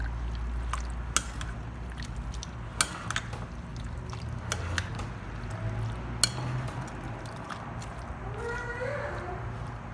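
Fruit chaat being tossed in a bowl with a spoon, soft wet squishing and occasional sharp clinks of metal against the dish over a low steady background, quiet and close.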